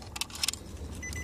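A Nissan or Infiniti remote key fob jangles in hand inside the car, with several quick, light metallic clinks close by over a low steady cabin hum.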